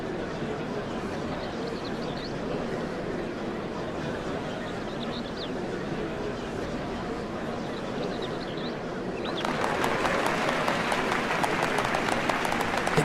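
Crowd applause in Final Fantasy XIV, a steady dense wash of clapping that swells louder and crisper near the end, with no talk over it.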